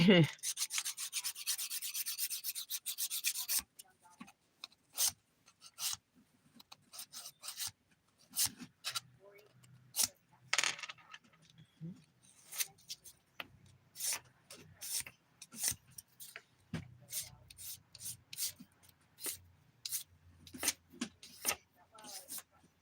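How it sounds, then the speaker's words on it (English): A nail file rasps against fingernails during a DIY dip powder manicure. A dense burst of rapid filing comes first, then many short, separate strokes in an irregular rhythm, close and fairly quiet. "I'm not good at filing with my left hand."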